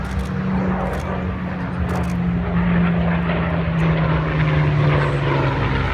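A supercharged piston aircraft engine on a low flypast at the Bournemouth Air Show, a loud, steady propeller drone with a deep droning tone that holds and slowly shifts as it passes close by.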